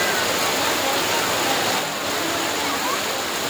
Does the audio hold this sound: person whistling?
no